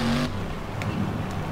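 A struggling monster truck engine in BeamNG.drive drones loudly and steadily, with a brief higher rev at the start before settling into a labored, rough hum, alone without voices.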